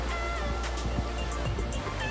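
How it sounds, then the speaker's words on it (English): Ocean waves wash onto the sand at the edge of a Miami beach, a continuous broad rushing surf that stays fairly steady and close throughout, with no voices. "When you stand at the edge of the beach where the ocean waves hit the sand in Miami"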